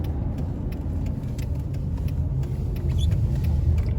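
A car drives along a service road at Vancouver airport past an old hangar, giving a steady low engine and road rumble with light rattles throughout.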